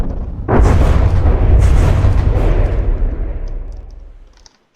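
A bomb blast in the naval combat game From the Depths, one loud booming explosion with a rumbling tail that fades out over several seconds.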